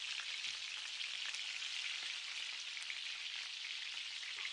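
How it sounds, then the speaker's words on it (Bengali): Chopped ginger and green chillies fry in oil in a pan for a Bengali vegetarian okra and potato dish, a steady close hiss and sizzle that runs without break and with no talk. "আদা কাঁচা লঙ্কার কাঁচা গন্ধটা না যাওয়া পর্যন্ত এইভাবে কিছুক্ষণ ভেজে নিতে হবে"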